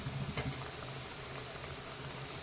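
Coconut sev chakli bubbles and sizzles as it fries in hot oil, a steady fizzing hiss with a few louder pops at the start, close and unbroken.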